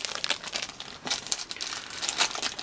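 Plastic packaging of a knockoff action figure crinkles and tears in quick, uneven bursts up close, like it is being bitten and pulled open.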